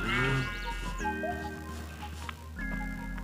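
Sheep bleating in a modded Minecraft-style farming game on Android: a loud, steady, wavering bleat that holds for a few seconds, drops in pitch partway and then swells again, heard alone without talk.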